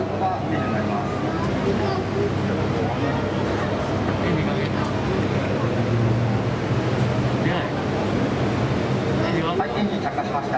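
A T-400 jet trainer engine lights during a ground taxi training display and spools up toward idle, giving a loud, steady, dense roar that holds evenly from start to finish.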